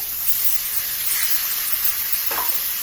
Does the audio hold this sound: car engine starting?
no